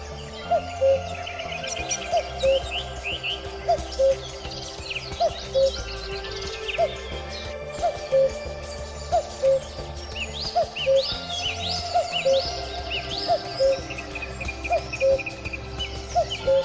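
Resident birds in the tropical lowland rainforest conservatory at Adelaide Botanic Garden give varied chirps and calls that recur in a steady pattern over a constant background hum, with periodic louder notes.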